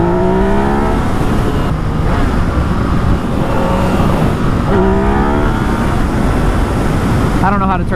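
A 2019 Yamaha XSR900 motorcycle engine revving hard while riding, loud and close with rising whines through the gears, wind roar throughout and a rider's voice talking over it.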